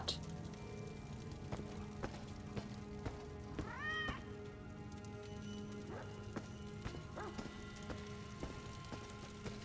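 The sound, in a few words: cat meowing in video game Elder Scrolls Online High Isle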